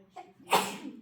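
A single short sneeze, a brief sharp burst preceded by a quick intake of breath, fairly close and alone.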